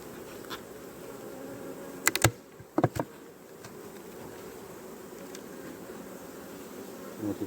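Honeybees buzz steadily at an open hive during a beekeeping visit, a dense low hum running throughout, broken by a few sharp clicks and knocks near the middle.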